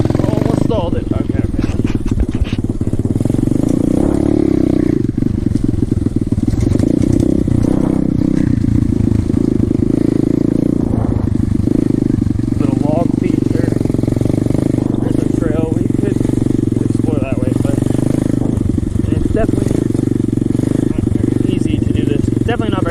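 Apollo 125cc motorcycle labouring up a steep hill in second gear, engine droning steadily and loud throughout with throttle surges, clatter and a near-stall, a rider's voice occasionally over it.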